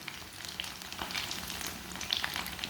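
Mini sandwiches frying in a little oil in a pan give a steady, soft sizzle with faint crackles and pops, continuous at moderate level with no talking.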